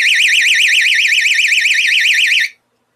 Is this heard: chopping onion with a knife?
no